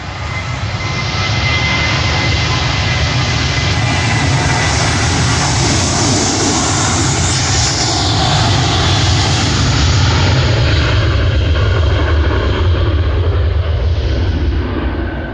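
Jet airliner taking off from runway 10R at Fort Lauderdale-Hollywood International Airport, a loud sustained engine roar with deep rumble that swells and holds, heard from close by the runway.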